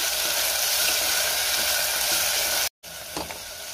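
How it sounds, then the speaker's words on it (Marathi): Finely chopped onion and curry leaves sautéing in hot oil for a white pea curry make a loud, dense, continuous sizzle, which cuts out briefly near the end and comes back with a few stirring scrapes. "त्यातच बारीक चिरलेला कांदा घालायचा आहे, कढीपत्ता घालूया आणि कांदा आपल्याला 2 ते 3 मिनिटं चांगला परतून घ्यायचा आहे।"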